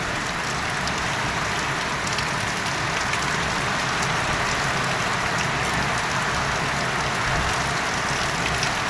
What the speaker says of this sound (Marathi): वारा आणि पाऊस आहे